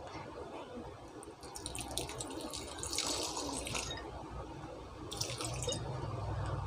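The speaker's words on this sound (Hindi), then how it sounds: "साथ ही में मैं इसमें पानी को डाल देती हूँ।" Water is poured into a bowl of sugar for lemon syrup, giving a close, splashing, trickling pour with uneven bursts of liquid and no talk.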